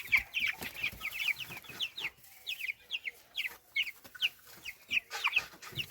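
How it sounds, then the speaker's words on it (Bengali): Broiler and tiger chickens cluck on a poultry farm, a busy scatter of short, repeated clucks and calls from several birds at moderate volume, with no talk over them. "এবারটা দেখাবো ব্রয়লার মুরগি আর টাইগার মুরগি দেখাবো।"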